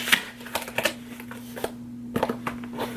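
Paper rustling and tearing as a mailed book package is opened by hand, in a series of quick crinkles and soft rips against a low steady hum, with no talk.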